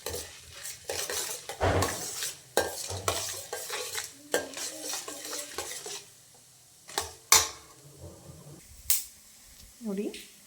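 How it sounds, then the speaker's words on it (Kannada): Mustard seeds go into hot oil with chana dal and urad dal, and a spoon stirs the pan, producing sharp clattering scrapes, pops and crackles in irregular bursts, loud and close, with a faint sizzle between them. "ಈಗ ಸಾಸಿವೆ ಹಾಕ್ತೀನಿ."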